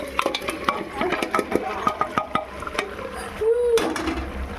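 Pieces of country chicken being stirred into a spice paste in a pan, a close run of rhythmic spoon knocks and scrapes against the metal with a faint sizzle beneath, no talk.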